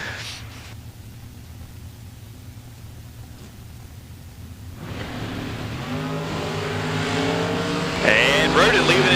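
A drag racing car at a strip event, engine noise building from a distant rumble to a loud rising roar toward the end, under a commentator's voice.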